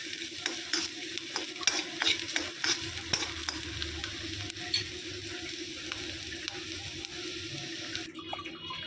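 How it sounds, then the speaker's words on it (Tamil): Garlic and cumin sautéing in a kadai, a continuous close sizzle broken by frequent spatula scrapes and clinks, with faint running water in the background toward the end. "இந்த பூண்டை போட்டு வதக்கிடுவோம்."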